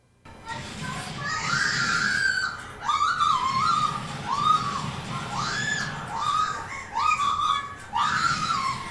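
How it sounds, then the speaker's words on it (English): Players of a VR horror game shriek in terror, with repeated high-pitched screams and squeals rising and falling in bursts over several seconds against a noisy background. "Laughing at others' misery, which in this case is delivered to us via shrieks of horror."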